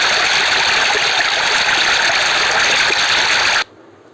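A continuous stream of flowing water hisses and gurgles at a constant loud level, then stops sharply near the end, leaving near-silence.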